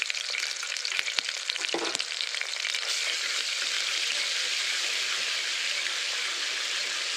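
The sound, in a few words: ginger garlic paste frying in a pan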